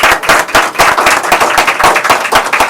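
A room of attendees at a press conference breaks into brisk, loud applause, dense sharp claps close by in a continuous burst with no talking.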